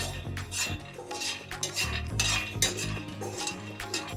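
Peanuts are roasted in a pan on a low flame while being stirred, making continuous close scraping and rattling with repeated clinks of the utensil against the metal, with no speech.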